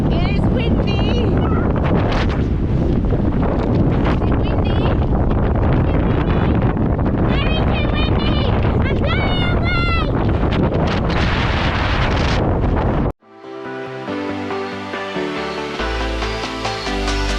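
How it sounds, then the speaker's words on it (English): Strong coastal wind at Newgale in South Wales buffets the microphone in a loud, roaring rush, with gusty bursts, until it cuts off abruptly near the end. "The wind is crazy."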